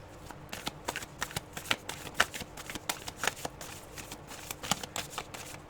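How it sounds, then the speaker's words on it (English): Tarot cards are shuffled and slid around by hand in a quiet room, with a steady run of soft, crisp riffling snaps and flicks and no voices. "I'm moving some cards out the back there."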